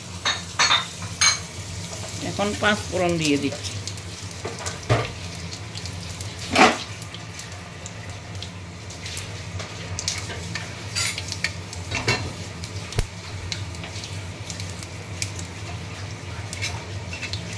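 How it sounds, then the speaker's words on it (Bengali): Five-spice phoron tempering sizzles in a pan while khesari greens are cooked, a low steady crackle under repeated stirring scrapes and occasional sharp clinks of a utensil against the pan. "এখন 5 ফোড়ন দিয়ে দিচ্ছি"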